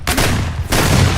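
AK rifle firing in Escape From Tarkov, a loud sustained burst of rapid close-range shots with a brief break before firing resumes.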